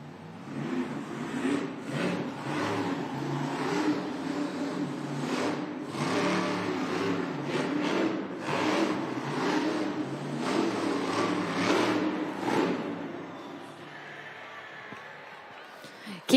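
Rammunition monster truck engine in a Monster Jam arena in Washington DC, a steady rumbling drone with surging revs over a cheering crowd and an announcer talking, easing off near the end.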